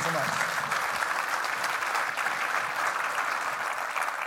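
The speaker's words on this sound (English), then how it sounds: "Please give Feifei a big round of applause." Applause from a conference audience at a tech expo, a dense and steady wash of many hands clapping that carries on through the whole stretch at a fairly loud level.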